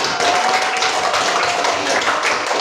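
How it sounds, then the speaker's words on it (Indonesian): A classroom of students claps for classmates ranked in the top three, a dense, steady burst of many hands that holds evenly at close range with no talk over it. "Tepuk tangan dulu untuk teman-teman kita."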